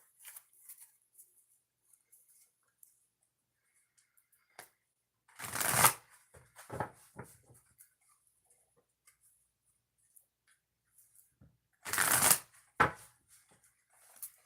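Two bursts of oracle card shuffling, each a quick riffle followed by a few taps and small handling sounds, separated by near silence.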